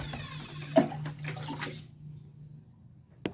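Water rushing back through a just-unclogged drain line after being switched on again, a steady gushing flow with a few knocks and splashes that thins out toward the end, no talk over it.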